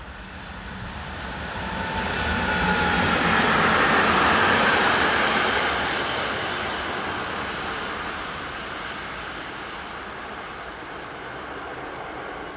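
A German class 145 electric locomotive hauls a short westbound freight train past a main-line trackside spot, a broad rumbling roar that swells to a peak mid-pass and then eases off as the wagons roll by.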